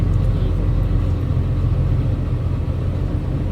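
An Isuzu six-wheel dump truck fitted with a 6HK1 diesel engine rumbles low and steady while reversing, heard up close as a continuous deep drone.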